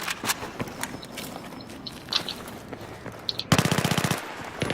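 Battlefield 3 multiplayer gunfire, mostly scattered distant-sounding shots under game ambience, ending in a louder rapid burst of automatic fire.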